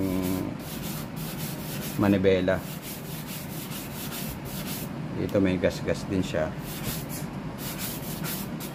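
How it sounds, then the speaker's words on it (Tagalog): Steady scratchy rubbing of sandpaper against a leather steering wheel, with short vigorous bursts, while a person talks over it in Filipino. "lihain lang natin siya"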